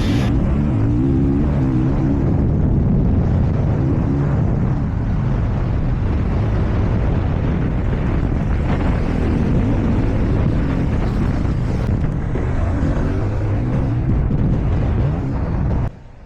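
A Honda CRF450 motocross bike engine drones steadily throughout a riding run, loud and close with wind rush over it, dropping off abruptly at the very end.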